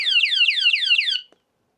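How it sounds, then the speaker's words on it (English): A cheap motorbike displacement-sensor anti-theft alarm sounds a rapid series of descending electronic chirps, loud and close, for about a second before cutting off. "And if I do it again, then the alarm goes off."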